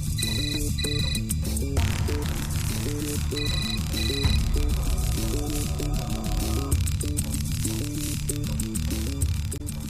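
A telephone rings with a repeating electronic ringtone melody, looping steadily for ten seconds over a low hum, with no talking.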